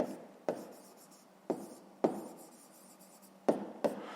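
A pen writes out a math answer on paper, a series of quiet, close scratchy strokes starting sharply and trailing off, with no talking.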